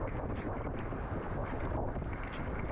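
A wind gust rushes across the microphone while sailing an RS600 dinghy, a constant loud buffeting roar with hull and water noise beneath and no talking.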